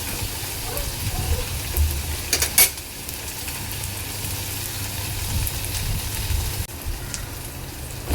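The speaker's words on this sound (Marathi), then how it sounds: "पेस्ट आहे ना कांद्यामध्ये चांगली 1-2 मिनिटं परतून घ्यायची आहे।" Onion and spice paste for sev bhaji sautés in a pan, giving a steady, soft, rain-like sizzle throughout, with a few clinks near the start and no talking.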